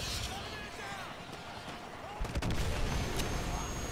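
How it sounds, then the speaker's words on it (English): A missile strike hits an enemy helicopter in Call of Duty: Modern Warfare 2, a sudden loud explosive boom about halfway through that gives way to a sustained rumbling roar over steady battle noise. "Direct hit on the enemy helo."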